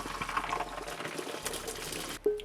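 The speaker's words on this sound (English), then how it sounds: "and I'm gonna drain the noodles." Cooked noodles for chicken and broccoli Alfredo are drained, water splashing and gurgling steadily out of the pot in a close, continuous pour that ends with a brief clatter.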